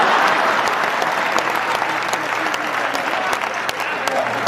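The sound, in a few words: audience clapping at a Hindi comedy poetry show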